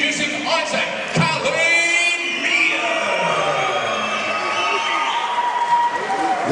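A crowd at a boxing event in Liverpool roaring loudly for a local fighter, with continuous cheering, whoops and yells at close range throughout.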